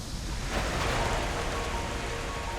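Steady rain pours down, a dense, even hiss of falling water that holds at a constant level throughout, with no voices over it.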